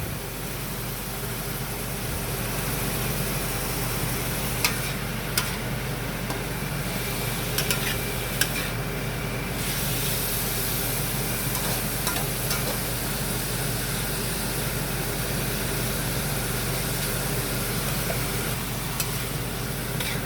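Chicken pieces and chicken gizzards sautéing in a pan for arroz valenciana, a steady loud sizzle with the rasp of stirring running through the whole stretch, with no voices.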